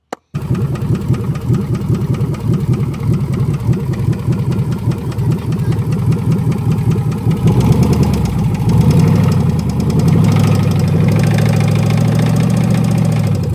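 Junkyard 5.3 engine running on a test stand, a loud, uneven idle with a pulsing, knocking rhythm, then rising into a rougher, louder roar partway through, with no talk over it.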